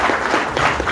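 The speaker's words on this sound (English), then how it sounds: "Round of applause for this guy." Loud, close crowd applause with cheering swells at a DJ industry conference gathering, a dense burst of clapping with no clear speech over it.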